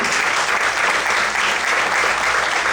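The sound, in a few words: applause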